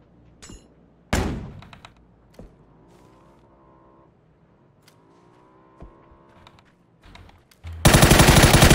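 Bursts of gunfire during a PUBG shootout: a loud blast near the start, scattered sharp shots and mechanical clicks through the middle, then a sustained loud automatic volley at the end.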